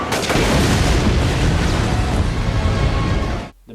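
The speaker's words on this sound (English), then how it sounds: "The missile blows up in a pretty cool explosion across the sea" A missile blows up over the sea in a James Bond action film, a loud sustained roaring blast that fills the space for over three seconds before cutting off abruptly.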